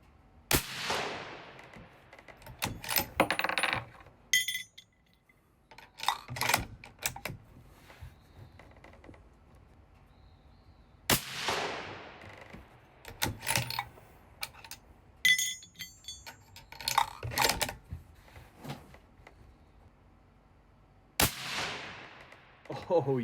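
Loud, sharp gunshots ring out from a custom rifle chambered in 7 Sherman Short at an outdoor range, fired one at a time several seconds apart, each with a ringing tail, interspersed with metallic clinks of the action and brief handling noise.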